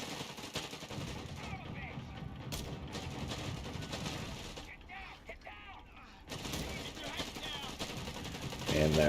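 Rapid automatic gunfire from an Assault Grenadier in the strategy game Company of Heroes 3, bursts of rattling shots mixed with battlefield clatter and brief pauses, under light commentary talk.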